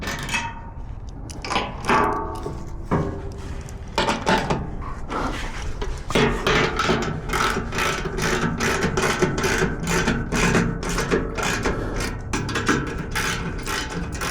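Ratchet ratcheting while tightening the 13mm running board bracket bolts on a Tesla Cybertruck, a dense stream of close, loud clicking strokes that runs steadily with brief pauses between bursts.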